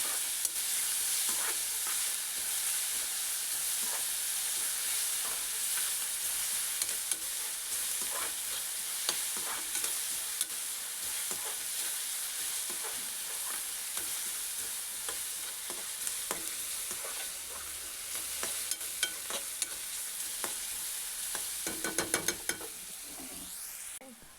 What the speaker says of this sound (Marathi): लालसर होईल असा मस्त कांदा भाजतोय